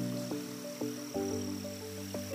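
Frogs croak in water on a nature hike at High Point State Park, New Jersey, a few low, throaty calls repeating irregularly over a steady tonal chorus, close and moderately loud with no talk.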